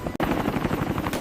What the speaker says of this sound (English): Stealth helicopters were visible on the horizon, approaching under cover of night.